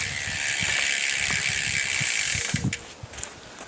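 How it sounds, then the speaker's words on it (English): A bicycle drivetrain whirs as the chain shifts down onto the small rear cog, a smooth spinning buzz that gives way to a series of close ratcheting freewheel clicks. "get your chain shifted to the small cog"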